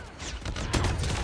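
CR-56 AMAX assault rifle gunfire in a video game, with a short quieter stretch followed by a louder rapid burst of shots landing a headshot, close and with no speech.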